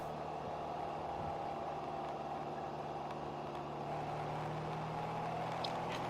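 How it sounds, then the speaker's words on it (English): Race car engines drone steadily as cars crawl slowly around the Sebring racetrack behind a pace car during a ChampCar endurance race at night, a continuous mid-distance hum with no speech. "background noise is drowning y'all out on my end. Just the engine noise."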